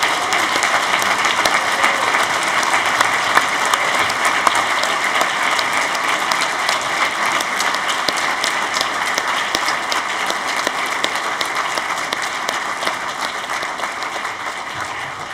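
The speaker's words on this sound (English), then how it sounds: "please join us in a round of applause for our graduates" A big audience at a graduation ceremony applauds the graduates, honorees and their families, in a long, steady roar of clapping that stays loud and even before easing slightly at the close.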